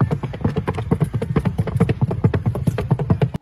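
Horse hooves clip-clop in a quick, steady rhythm of many close, crisp knocks on a hard surface, continuing without pause and ending abruptly.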